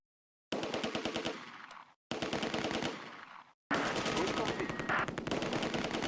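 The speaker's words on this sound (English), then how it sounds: "The Bren section on the left flank opens fire." Bren light machine gun in the Close Combat wargame set at Market Garden, firing three sustained bursts of rapid, evenly spaced shots separated by brief pauses, loud and close with no talk over it.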